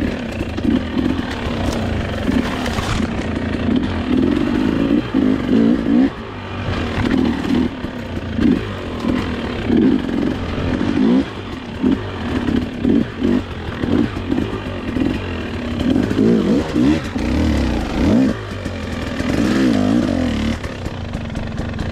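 A 2021 Husqvarna TX300i two-stroke dirt bike rides Western Oregon single track, its engine loud and close as it revs up and down in repeated bursts with clattering over rough ground, no talk over it.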